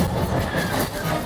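Train rumble and rattling clatter from the Millennium Falcon: Smugglers Run ride at Disneyland, a loud, continuous mechanical roar filling the cabin with a slight swell and dip over about a second.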